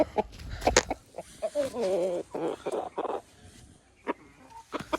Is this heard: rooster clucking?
yes